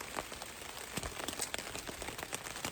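Rain falls during a hike, with a steady patter of drops landing on nearby surfaces, soft and continuous, and a few sharper ticks standing out.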